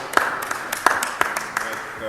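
Brief, light clapping from a small group greets a school raffle prize winner, a few scattered hand claps ringing out over a quiet room with a voice in the background.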